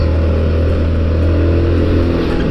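A Honda Forza 350 scooter carries two riders and a top box at low speed on ND Rubber City tires, its engine droning steadily up close under constant road and wind noise.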